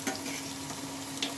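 Lentil fritters (dal bora pakora) fry in hot oil, giving a soft, steady sizzle with a couple of brief louder crackles, no voices over it.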